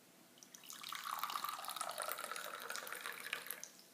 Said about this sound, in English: Mint tea. We're going to pour it up in here.